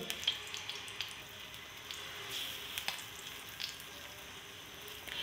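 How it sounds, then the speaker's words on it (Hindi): Besan batter in hot oil in a pan, a quiet, steady frying hiss with scattered small pops and crackles, fairly faint and without talk. "पैन में मैंने तेल डाल दिया। अभी ये बैटर जो मैंने बनाया था वो डालूँगी।"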